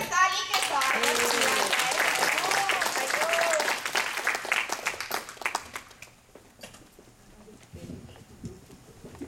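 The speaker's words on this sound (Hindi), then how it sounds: "जोर से ताली के साथ" A crowd breaks into loud applause at a Guru Purnima celebration honoring a yoga teacher. A voice rings out over dense clapping that fades after about six seconds, leaving scattered claps and quiet murmurs.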